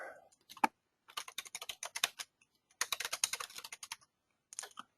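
Fingers type on a computer keyboard in quick close bursts of clicks, separated by short pauses.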